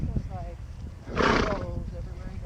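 A quarter horse gives a loud, clear whinny nearby, a single rising and falling neigh lasting about half a second over steady outdoor background noise.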